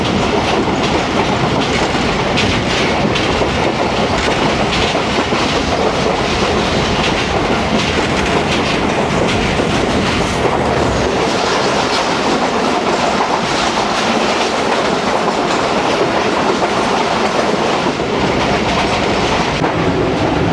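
The 18 Down Millat Express passenger train rolls past at close range, a loud, continuous rumble with rhythmic clickety-clack of wheels over rail joints, sustained throughout without speech.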